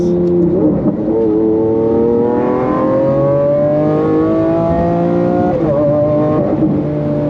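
A Lamborghini Aventador LP 700-4 engine revs up loudly and climbs in pitch, dropping abruptly at gear shifts before climbing again, close and continuous.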